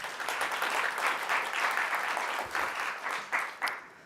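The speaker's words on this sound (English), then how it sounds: "let's have a round of applause for Jacky." Audience applause at a technology conference summit after a presentation ends, a steady wash of many hands clapping that holds level throughout, with a couple of sharper claps near the end.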